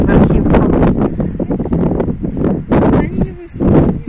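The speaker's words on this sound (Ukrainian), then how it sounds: "ще й вітер прям лице дме" Strong wind buffets the microphone in loud, roaring gusts at Lake Ivor in Zakarpattia, with faint voices partly buried underneath.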